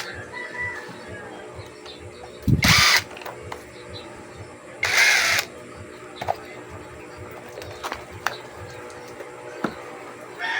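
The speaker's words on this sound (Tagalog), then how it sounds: "Gamitan nyo ng impact." An impact wrench removes screws from a Honda GX35 (CG139F) grass cutter engine during an overhaul, firing in two short, loud bursts about two seconds apart over a quiet background of faint clicks and ticks.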